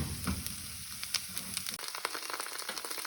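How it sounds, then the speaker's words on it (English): Tempeh and onions fry in a pan with butter, making a steady close sizzle with occasional light crackles and pops throughout. "I've added the tempeh to the onions"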